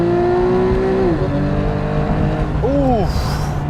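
A 991.1 Porsche 911 GTS engine revs hard on a straight road, its loud climbing note dropping sharply after about a second, then quick rising blips as it shifts, heard from inside the car with some voice nearby.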